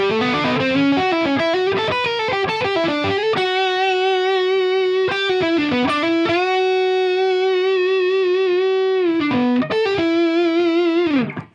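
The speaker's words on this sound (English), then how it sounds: "Here is the Mondo distortion sound with this." A 1993 Gibson '57 Reissue Les Paul Custom played through a Mondo distortion pedal, loud saturated electric guitar with sustained distorted chords and single notes ringing out, alone with no talking.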